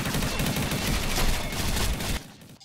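Sustained P90 submachine gunfire in the Combat Arms video game, a dense continuous burst of rapid shots that stops abruptly near the end, loud and alone with no talk over it.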